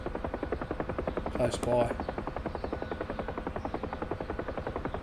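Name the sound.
Huey helicopter landing into hover, DCS video game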